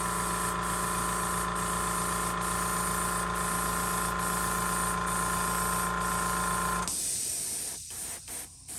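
Airbrush or spray gun at about 25 psi lightly misting yellow paint onto a custom fishing lure, a steady loud hiss over a compressor drone lasting about seven seconds, then cutting off into quieter room noise.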